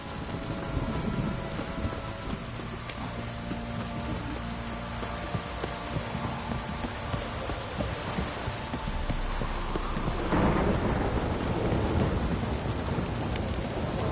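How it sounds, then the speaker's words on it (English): Steady rain and rolling thunder in a PS4 video game fill the scene continuously, with a low rumble throughout and a louder thunder swell toward the end, no voices. "Don't stop raining, my arse will rot off."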